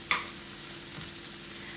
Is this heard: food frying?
yes